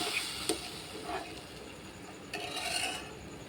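Tamarind water being stirred into a vegetable-stem pickle in a pan, with faint scraping and a couple of light utensil clinks over a soft background hiss, no speech.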